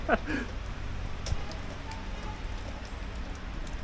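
Steady rain falls outdoors as a continuous soft wash of patter on surfaces, with a brief voice or sound near the start and a faint thump midway.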